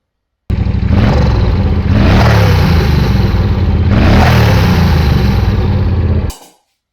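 A loud, raspy Triumph Bonneville Bobber exhaust with the silencer tube removed blares up close, revving twice in swells before cutting off abruptly.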